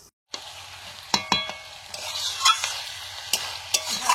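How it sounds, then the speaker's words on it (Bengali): Meat being slow-fried and stirred in a covered pan for a sesame chicken dish, with a steady sizzle broken by several sharp scraping clinks of the spoon against the pan. "ঢাকা দিয়ে দিয়ে মাংসটা কষিয়ে নিচ্ছি।"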